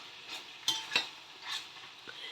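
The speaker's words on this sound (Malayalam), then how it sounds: "ഇപ്പോൾ ഇങ്ങനെ വറുത്തെടുക്കുമ്പോഴത്തേക്കും ഒരു മുക്കാൽ ഭാഗം നന്നായിട്ട് വറുത്തെടുക്കണം" Chicken pieces frying in a pan, a low sizzle broken by a few sharp clinks and scrapes of a spoon turning the meat, close and fairly quiet.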